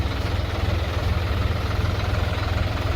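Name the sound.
tractor engine idling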